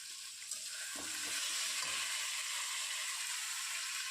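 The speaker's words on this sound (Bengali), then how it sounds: "যতক্ষণ তেল না বেরিয়ে আসে ততক্ষণ আমি এই মশলাগুলিকে নাড়িয়ে চাড়িয়ে নিয়ে" Spices fry in oil while being stirred for a potato and rajma curry, making a soft continuous sizzle with faint scraping strokes early on.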